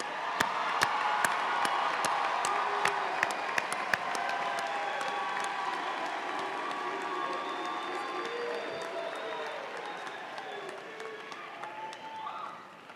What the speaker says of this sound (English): Please join me in a round of applause for our CCPA graduates.